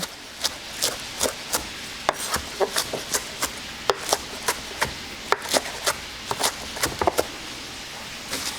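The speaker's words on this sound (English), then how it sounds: "we're going to chop up that kale with our onion" A knife chops kale and onion on a cutting board in steady, crisp strokes, about two per second, each a sharp tap. The chopping is close and clear over a quiet room, with no talking.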